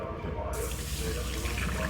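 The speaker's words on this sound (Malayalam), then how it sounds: "വെള്ളം ഒഴിക്കുക" Water pouring steadily into a vessel to wash moringa leaves, a close, continuous splashing rush with no talk.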